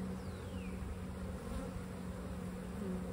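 A steady low drone of many honey bees buzzing together close by in a Layens hive, continuous and busy, with a faint high whine passing through.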